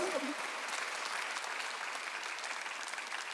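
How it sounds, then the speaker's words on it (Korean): Congregation applauding during a Sunday church service, a dense steady wash of clapping that holds at an even level for a few seconds, with no voice rising above it. "박수 한번 주세요"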